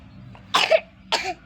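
Two separate coughs, the first a double hack and the second a single harsh burst, fairly close with quiet between them.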